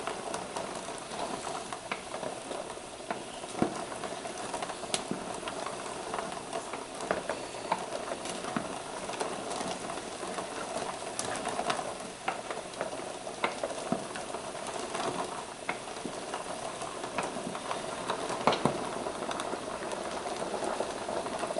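Quail eggs are stirred in a pot of boiling water ahead of pickling, giving a quiet, steady bubbling and pattering with faint clinks of eggs and spoon running throughout.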